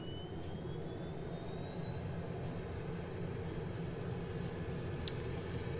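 A T-45C Goshawk jet trainer's engine spools up in a flight simulator game, a thin whine climbing slowly in pitch above a steady low rumble, with a brief click near the end.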